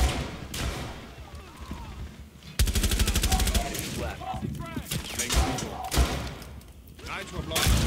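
Explosions and gunfire in the tactical shooter Rainbow Six Siege: loud, dense bursts of rapid automatic fire and heavy thumps pile up over several seconds in a chaotic firefight.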